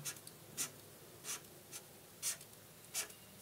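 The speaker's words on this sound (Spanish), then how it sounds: "Vamos a dibujar aquí en un espacio determinado" A marker or chalk scratches across a board in a classroom setting, making four or five short separate strokes, faint but close, with no talk.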